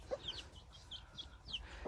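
Chickens and a rooster clucking in short, scattered calls, fairly faint against a low background rumble, with no talking.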